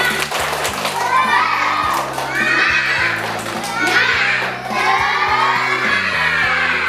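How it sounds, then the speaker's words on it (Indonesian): Elementary schoolchildren in an Indonesian classroom perform a rhythmic spirit clap chant together, sharp repeated claps under loud chanting voices that fill the room, steady and energetic throughout. "kita tepuk semangat dulu ya"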